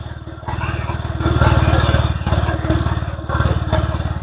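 A Honda Vario 125 scooter engine runs after a repair for weak acceleration and quickly fouling spark plugs, a steady, close putter with rhythmic pulsing that rises and falls slightly in revs.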